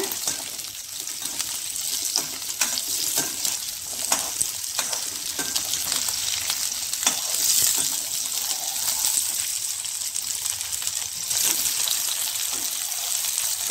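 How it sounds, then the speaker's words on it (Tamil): Onions frying in oil in a kadai for a coconut kulambu: a constant, close hiss and sizzle with crackling bursts, steady in level throughout, with no talk over it. "வெங்காயத்தை ஆயிலில் போட்டு நல்லா ஃப்ரை பண்ணணுங்க"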